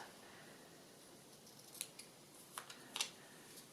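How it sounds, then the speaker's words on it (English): Faint, crisp snips of sharp scissors cutting a paper circle, a handful of short cuts spaced irregularly over a quiet background. "with a sharp pair of scissors"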